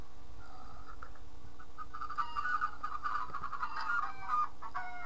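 Minecraft chickens cluck in short, quick bursts in a coop over a faint steady background hum, the clucking busiest in the second half.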